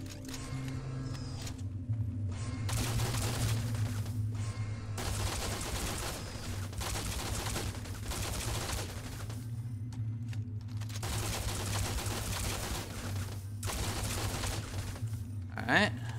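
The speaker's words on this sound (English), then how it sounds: "Plasma rifle." Bursts of rapid gunfire from a plasma rifle in the sci-fi game Project Stray, fired in repeated volleys of several seconds each, separated by short pauses, over a low, steady game background hum.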